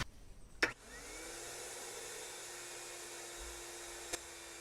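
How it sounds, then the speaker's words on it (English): A Ridgid wet shop vac draws sand out of a pool filter, producing a steady, fairly faint motor drone that starts after a brief knock and runs evenly to the end. "for my shop vac, which is a rigid shop vac, I need a wet filter specifically for this task"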